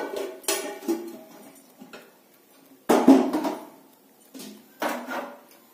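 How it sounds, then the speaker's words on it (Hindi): Radish paratha filling being mixed with red chilli in a dish, with scattered clinks and scraping knocks of a utensil against the bowl in a few separate bursts, fairly close. "अब इस सामान को मैं अच्छे से मिक्स कर दूंगी।"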